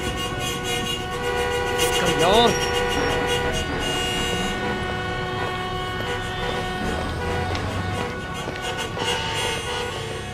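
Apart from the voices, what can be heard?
car horn honking repeatedly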